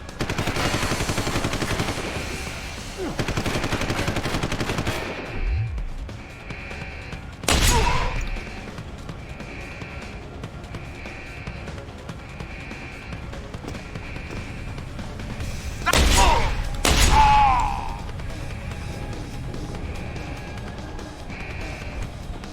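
Gunfight in Deus Ex: Human Revolution, with rough bursts of combat noise early on and a few sharp loud shots later, separated by quieter stretches with a faint repeating tone in the background.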